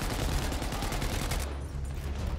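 A light machine gun fires in Battlefield 5, a steady run of rapid shots at moderate level with a dense low rumble, the crack of the bursts thinning out toward the end.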